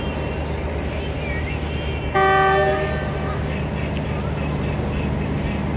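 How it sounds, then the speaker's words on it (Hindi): Rehman Baba Express 48DN pulling out of Peshawar Cantt behind a ZCU20 locomotive, its loud horn blasting once over a steady rumble of the moving train, with a voice talking faintly in the background. "48 डाउन रहमान बाबा एक्सप्रेस का डिपार्चर हो रहा है जी पेशावर कैंट से।"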